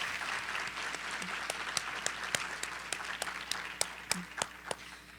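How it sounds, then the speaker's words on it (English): Audience applauding at a school recognition ceremony for top seniors, a dense steady wash of many hands clapping with a few sharper nearby claps standing out, continuing throughout without talk. "can we please give them a round of applause?"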